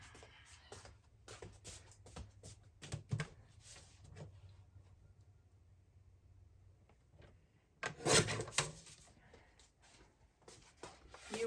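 Tape is trimmed off a handmade paper folio with a blade. Soft scraping and rubbing strokes come in short bursts, faint and close, with a louder cluster of cuts near the end.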